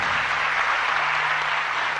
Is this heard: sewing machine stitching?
no